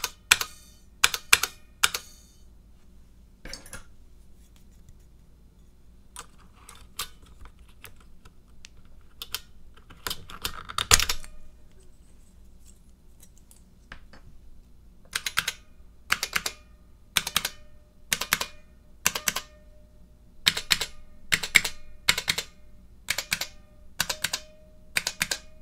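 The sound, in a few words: typing on a Model F buckling spring keyboard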